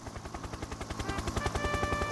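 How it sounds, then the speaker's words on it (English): A toy helicopter, Harold, arriving in a model railway scene: a fast, even chopping of rotor blades, close and steady, growing slightly louder over two seconds, with no talk. "Just then, Harold the helicopter arrived."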